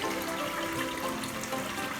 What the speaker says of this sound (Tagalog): Lagyan mo tubig.